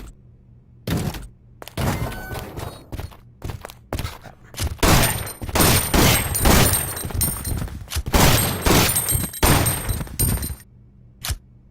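Rapid bursts of gunfire from a survival-horror video game ring out loud and close, volleys of shots and heavy thuds coming in uneven clusters with brief gaps between them.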